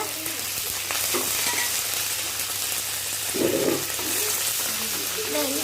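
Green chillies and urad dal fry in hot oil for upma, making a continuous close sizzle and crackle with a slight stirring scrape, steady and without speech.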